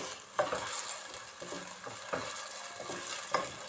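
Chicken breast pieces frying with onion, garlic and ginger in a pan, a steady sizzle broken by several stirring scrapes of a spoon against the metal, close and fairly loud, with no voices.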